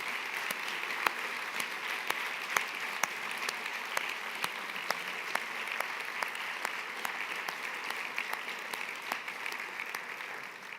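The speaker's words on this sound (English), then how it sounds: "maybe we can give a final round of applause to all of them" Steady applause from an award ceremony crowd in Brussels, with sharp individual claps standing out over a continuous patter, lasting several seconds at moderate distance.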